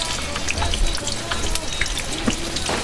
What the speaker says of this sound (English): take it to your hot pan of oil and you'll go ahead and fry them for about 15 minutes cooking